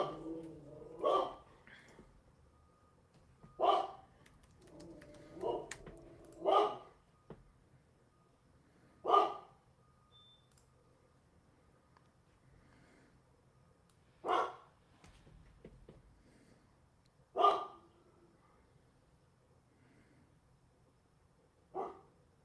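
A dog barks in spaced single and double woofs, about eight bursts at irregular intervals, fairly close in an otherwise quiet room, with occasional soft talk beneath.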